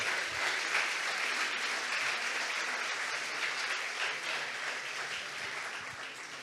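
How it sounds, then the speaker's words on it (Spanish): Sustained applause from a crowd, dense and steady clapping that holds strong throughout and tapers slightly toward the end. "me gustaría dar un aplauso al maestro"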